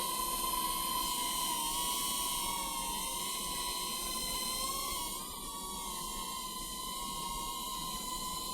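A small camera drone (DJI Mini-class fitted with a Freewell ND filter) lifting off, its rotors producing a steady high-pitched whine and buzz that stays loud and even, dipping slightly near the end.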